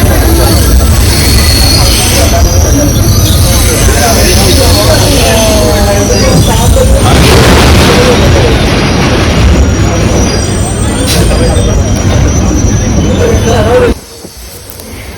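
MEMU suburban train pulling out of Vasai Road station, a loud close rumble with wheel squeal and rattling carriages that cuts off abruptly near the end.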